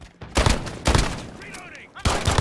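Rapid gunfire bursts from Call of Duty: Modern Warfare in a 2v2 match, loud repeated volleys with short gaps, while a player talks excitedly over the shooting.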